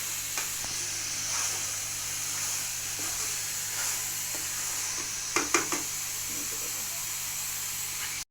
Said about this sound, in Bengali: এখানে নারকেল, চিনি আর একটু লিকুইড দুধ দিয়ে তারপর নাড়াচাড়া করে এটা একটু আঠালো বানায় নিই।